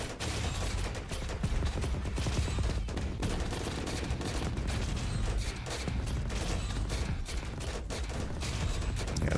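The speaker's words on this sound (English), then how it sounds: "Yeah, they're still shooting that invulnerable base." Artillery turrets firing in the real-time strategy roguelite Rogue Command, a dense, continuous barrage of overlapping booms and rapid gunfire that stays loud and unbroken throughout.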